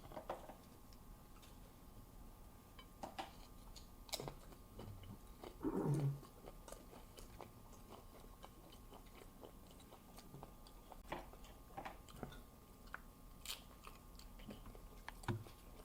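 Nachos topped with nacho cheese sauce, real cheese, taco-seasoned beef and Mild Bill's seasoning being eaten, with quiet close crunches and chewing bites scattered through a hushed room, one louder crunch near the middle.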